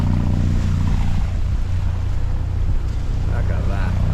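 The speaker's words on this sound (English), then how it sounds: "Quite big waves by here. Wasn't expecting this. Surfing waves." Big ocean waves turning over near Tahiti, churned by a current running against the boat, roar as a steady loud wash with constant wind buffeting throughout.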